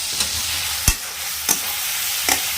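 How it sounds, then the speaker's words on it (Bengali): Chicken pieces fry in a pan with a soft, even sizzle, punctuated by three distinct knocks and scrapes of a spatula stirring the meat close by; no talking. "এখানে মাংস একটু ভেজে নিচ্ছি"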